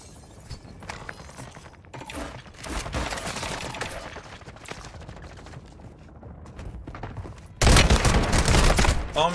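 Gunfire in the video game Call of Duty Warzone 2: scattered shots and mechanical clatter, then a loud, dense burst of sustained fire near the end.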